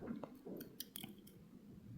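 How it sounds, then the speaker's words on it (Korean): Small thread snips cut beading thread in a quiet indoor craft session, with a couple of faint, brief metallic snips over low background noise. "마지막으로 쪽가위로 실을 잘라주도록 하겠습니다"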